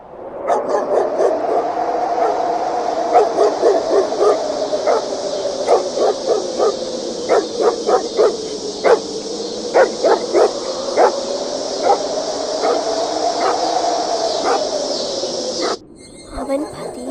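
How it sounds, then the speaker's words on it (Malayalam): Dogs howl at night in a long, wavering, sustained chorus, with sharp barks punctuating it at irregular intervals, loud and close before ending abruptly. "നായകളുടെ ഓരിയിടായി"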